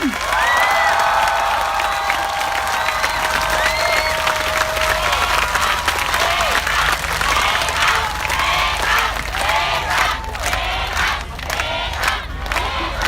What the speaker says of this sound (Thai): ขอให้พี่น้องทุกคน ปรบมือเรียกร้องให้สื่อกลับมาอยู่ข้างประชาชนอีกครั้ง